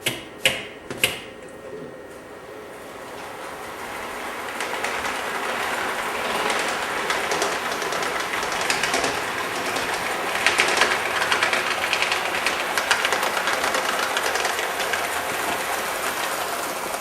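A model SP AC-12 locomotive with exact scale wheels rolls over track and a double slip switch, starting with a few sharp clicks, then a steady close rolling clatter that builds and holds.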